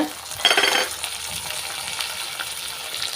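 About ten garlic cloves dropped into a hot pan with roasted urad dal and chana dal for an Andhra-style chutney powder, a loud burst of sizzling at the start settling into a steady fry with light stirring.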